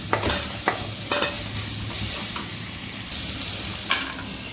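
Tomato masala for a chicken giblet gravy fries in a pan, giving a steady low sizzle with a few scraping stirs of a spoon spaced through it, fairly close and without voices.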